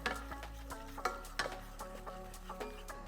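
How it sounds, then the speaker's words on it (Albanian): Flour and red pepper are stirred into hot oil in a pot, giving a gentle sizzle with repeated scraping strokes of a spoon against the pot, close and clear with no talking. "e përzini mirë."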